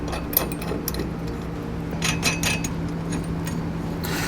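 Someone tightens a nut with a flat washer and lock washer onto the J-bolt of an Erickson truck bed ladder rack on a 2013 truck, giving faint metallic clicks and short ratcheting bursts over a steady low hum.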